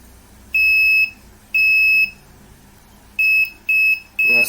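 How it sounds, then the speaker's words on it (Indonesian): A buzzer wired to an ultrasonic parking sensor circuit gives loud, sharp electronic beeps, two longer tones then three quicker ones in succession, alone over a faint background. "Dan satu ini paralel dengan buzzer."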